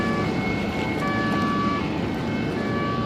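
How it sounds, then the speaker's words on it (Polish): Passing police siren on the streets of Venice, a steady wailing tone heard at moderate distance over a busy outdoor wash of city and water noise, continuing throughout. "A tam właśnie jedzie policja na sygnale."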